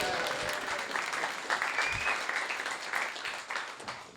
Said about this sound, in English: Let's have a big round of applause for Tom first.